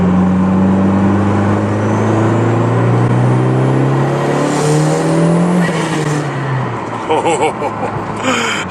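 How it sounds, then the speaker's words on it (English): Turbocharged car engine revving and accelerating from inside the cabin, a loud droning tone rising steadily in pitch through a long pull, then dropping sharply as the driver shifts, with some rattles afterward. "I'm just gonna get some heat in the motor and then we can try and do a pull."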